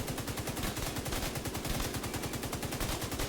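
Rapid automatic gunfire in The Division 2, a steady stream of loud, evenly spaced shots aimed at an enemy's chest while using a Pestilence build, continuous and close with no voices.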